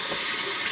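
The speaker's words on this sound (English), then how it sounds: "Now while I let it dry, I'm gonna rinse my brush out." Running water pours steadily from a tap as a shaving brush is rinsed under it, a brief, even hiss and splash close by.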